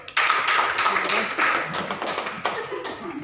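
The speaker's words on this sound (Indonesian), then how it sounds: "Tepuk tangan untuk dia dulu." Classroom applause in a computer and basic networking microteaching lesson, a burst of many hands clapping that starts abruptly and carries on steadily, with faint voices mixed in.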